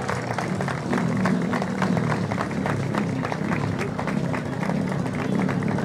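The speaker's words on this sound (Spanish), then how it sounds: "Fuerte los aplausos para los campeones" Outdoors at a civic-military parade, a crowd applauds motocross champions with steady, moderately loud clapping and crowd noise that carries evenly throughout.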